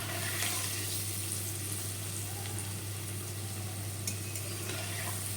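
Palm fritters (taler bora) frying in oil and being stirred gently, giving a continuous close sizzle with a few faint clinks over a low steady hum.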